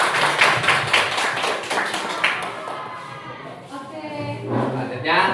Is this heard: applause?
yes